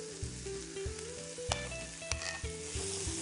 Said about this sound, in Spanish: Rehogamos la cebolleta, el pimiento verde,